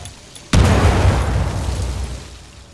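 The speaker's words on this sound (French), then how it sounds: "Grenade." A grenade explodes in the video game Titanfall 2, a single sharp, loud close blast followed by a rumbling decay lasting about two seconds.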